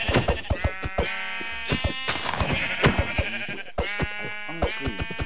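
Sheep bleat repeatedly at close range in Minecraft, a series of wavering cries overlapping one another with short gaps between calls.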